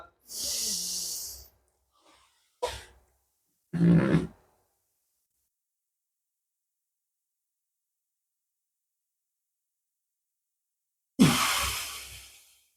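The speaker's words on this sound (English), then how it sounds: "this is one of the most powerful positions for pressure breathing, so I'll give you one example of that." Strong forced breaths during a pressure breathing exercise in a low back pain morning routine come in several separate bursts, a long exhale first and then shorter puffs and a grunt-like push, with long silences between them and a final forceful exhale.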